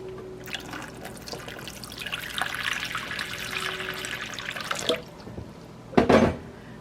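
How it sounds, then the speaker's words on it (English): Water is poured into a pie dish of pumpkin pie filling, a soft steady trickle that pours for a few seconds, pauses, then ends with a brief louder splash, close and quiet. "let's pour the water in this one"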